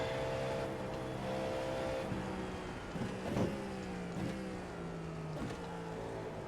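A Cadillac V-Series.R prototype race car in iRacing at the IMSA Canadian Tire circuit drones through repeated upshifts, its engine pitch climbing then dropping in steps, alongside passing traffic, with no talking.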